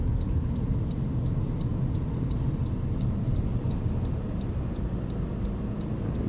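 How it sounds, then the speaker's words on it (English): A car's left turn signal ticks in a steady, even rhythm inside the cabin during a driving lesson, heard over a constant low engine and road rumble with no talking. "Left turn signal."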